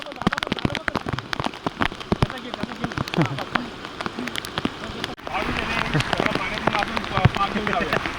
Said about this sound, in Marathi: पाऊस थांबला नाही मग